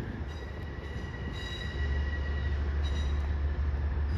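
A short train rolls through Croton Harmon station in New York, a steady loud rumble of wheels on rails with a faint high squeal, growing slightly stronger as it passes close by.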